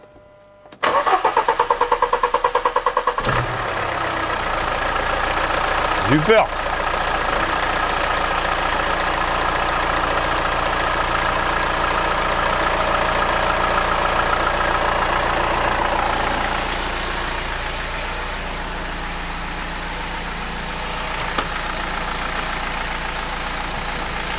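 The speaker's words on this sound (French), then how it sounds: "Je redémarre." A car engine cranks and catches after the ignition is switched on, then settles into a steady mid-pitched idle that holds for the rest of the stretch. A voice speaks briefly.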